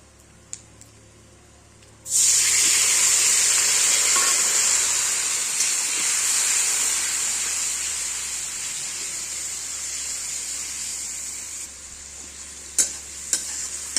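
Fennel paste mixed in water hits a hot frying pan with a sudden loud hiss after a quiet start, settling into a steady steaming sizzle that fades slightly before a few stirring clinks near the end.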